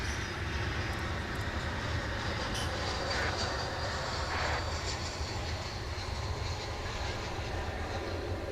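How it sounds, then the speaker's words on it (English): An American Airlines Airbus A319 arriving at Dallas/Fort Worth airport makes a constant, broad jet roar that stays loud and even from start to end, heard at a distance without talk. "Coming in from Querétaro in Mexico, here is American Airlines Flight 619, an A319 minibus"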